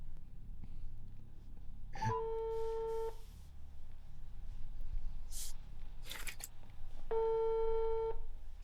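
Telephone call ringing unanswered, two long ringback tones about five seconds apart, each lasting roughly a second, heard faintly over a low background hum with brief clicks between.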